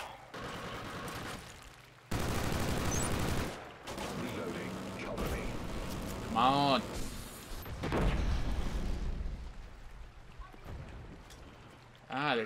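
Gunfire and explosive bursts in Killzone Shadow Fall online multiplayer, with a turret firing amid other weapon sounds and mechanical effects, while a player talks over the action.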